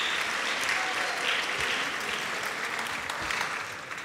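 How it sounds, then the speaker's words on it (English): Steady applause from a school audience fills a Christmas band concert hall, dense and sustained for several seconds before easing slightly at the end. "Let's give him a huge round of applause."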